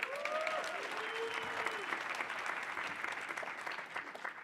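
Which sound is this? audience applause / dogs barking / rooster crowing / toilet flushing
audience applause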